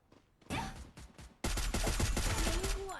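Rapid gunfire in the Free Fire battle-royale game, a short burst followed after a pause by a dense, loud, continuous volley of automatic shots close up, with game effects layered underneath.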